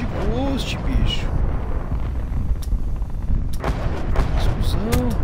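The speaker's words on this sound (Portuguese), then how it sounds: "Explosão" Explosions and heavy gunfire in Call of Duty Black Ops 4 multiplayer, dense booming bursts layered under excited talking throughout.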